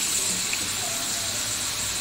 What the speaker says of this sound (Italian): Metto un bicchiere d'acqua fredda, così si cuociono un po' di più.